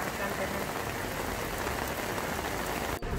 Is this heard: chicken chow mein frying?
no